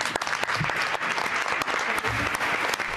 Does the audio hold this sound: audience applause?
yes